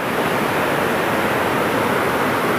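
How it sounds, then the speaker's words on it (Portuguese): A waterfall at a reservoir roars steadily and loudly, a dense, unbroken rush of falling water with no pauses or voices. "só por essa paisagem, por essa queda d'água aqui"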